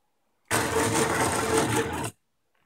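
Stepper motors of a Makeblock XY plotter v2 driving the drawing head, a single steady whirring buzz lasting about a second and a half, starting and stopping abruptly, close and fairly loud with no talking.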